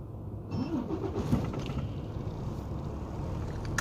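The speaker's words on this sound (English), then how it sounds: "as the truck starts up here" Big rig truck engine cranks and settles into a steady rumbling idle close by, with a faint high whine over the continuous low drone.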